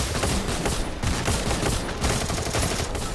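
Rapid automatic gunfire in the video game Free Fire, loud and close, in dense continuous bursts with brief gaps roughly every second.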